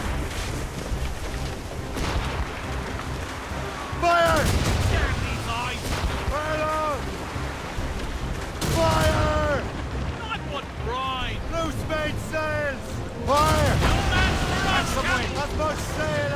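Ship cannons boom in repeated heavy blasts during a naval battle in Assassin's Creed Rogue, loud and rumbling over wind and sea noise, with voices shouting between volleys.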